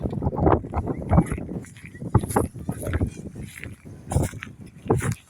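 Strong stormy wind gusting around a torn flag with a hole in it, roaring and buffeting the microphone in loud, uneven bursts with flapping and rattling close by.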